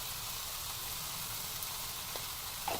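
Onion frying in a pan as turmeric goes in, for a brinjal, potato and prawn bhaji: a steady, even sizzle throughout, fairly loud and close, with a small clink near the end and no talking.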